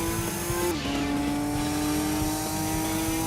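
A mid-engine race car in Gran Turismo 2 holds a steady, loud engine drone. The pitch drops sharply at a gear change and then climbs slowly again under hard acceleration.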